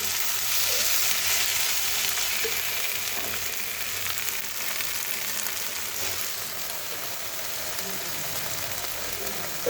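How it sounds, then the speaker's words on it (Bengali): Onions sizzling and frying in a pan for a Bengali lunch of kachki fish chorchori, a steady dense crackle that stays close and even throughout with no voices. "এদিকে পেঁয়াজ ভাজছে"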